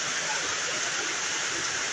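Heavy rain pours down at Palayam market in Kozhikode, a dense, even roaring hiss that fills the whole clip, steady and close with no distinct drops or voices.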